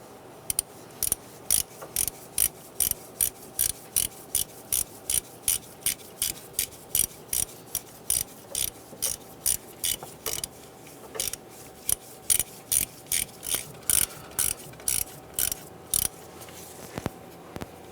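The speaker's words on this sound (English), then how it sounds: "We'll go ahead and grab our 10mm and tighten this down." A 10mm ratchet tightening the VVT solenoid bolt on a 2003-2011 Honda Element engine, with a long even series of crisp pawl clicks in quick strokes and brief pauses between them, close and clear throughout.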